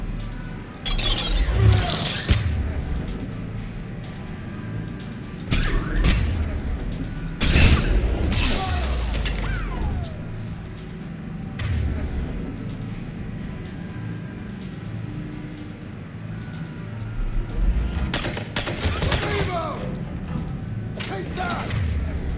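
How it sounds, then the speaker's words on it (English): Grenade blasts and gunfire in the video game Mass Effect 3: several loud, broadband booms and thuds at irregular intervals over a continuous low battle rumble, with softer shots between them. "Can you stop with those grenades, please?"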